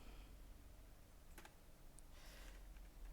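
Someone typing switch configuration commands on a computer keyboard while setting up a VLAN, giving faint scattered key clicks in a couple of short bursts over a steady low background hum.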